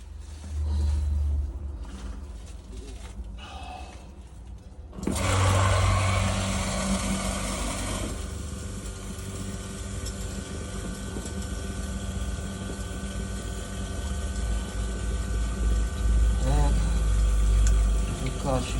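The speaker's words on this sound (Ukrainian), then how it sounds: "А ну, включи дренажник." A drainage pump starts up and pumps water from a newly flushed borehole with a sudden loud, steady broadband roar. A quieter stretch comes first, then the pump runs continuously to the end.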